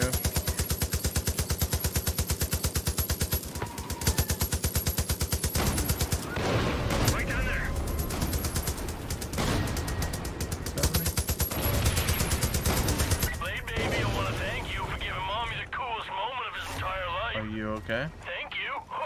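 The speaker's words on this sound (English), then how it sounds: "Who's shooting at me?" Rapid gunfire and bursts of shooting in the video game Far Cry New Dawn, steady and dense through the whole stretch, with a voice talking over the shots.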